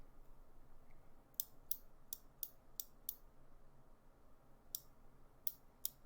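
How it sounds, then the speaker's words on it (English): Sharp mechanical clicks up close from joystick microswitches, about ten in irregular clusters over a quiet background hiss, like small switches snapping. "this is what the microswitches sound like up close."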